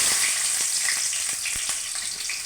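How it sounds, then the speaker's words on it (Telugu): Chopped onions hitting hot oil with already popped mustard seeds in a pan, making a bright, dense, loud sizzle with small crackles and light stirring taps, close up and with no one talking. "ఆవాలు వేగాయి, ఉల్లిపాయలు వేసుకుందాం."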